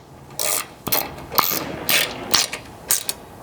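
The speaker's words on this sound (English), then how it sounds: "you'll tighten these again with a 5/32 hex" Bumper hardware on a 4th-gen Toyota Tacoma rear strike bumper is tightened with a 5/32 hex key, giving a series of short, close metallic ratcheting clicks in quick bursts with no voices.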